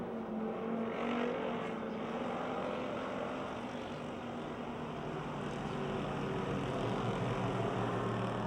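Race cars circling Pennsylvania Motor Speedway near Pittsburgh on a final lap, a dense, continuous engine roar that stays steady throughout at moderate distance, with no talk.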